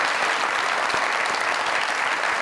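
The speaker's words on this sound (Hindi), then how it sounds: "तालियां। क्या बात।" Studio audience on a comedy talk show clapping loudly, a dense, continuous wall of applause with no gaps for the whole short stretch.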